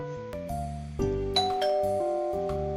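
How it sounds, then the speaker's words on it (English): A chiming doorbell in the video game Doki Doki Blue Skies plays a sequence of sustained, layered tones that ring and overlap, clear and up close with no talking. "The doorbell ringing sounds coming from another reality."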